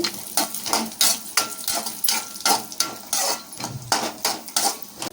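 About ten almonds frying in a pan with ghee for bellam pongali, rhythmic metal spatula scrapes and stirring clatters roughly every half second over a light sizzle, close and clear, no speech.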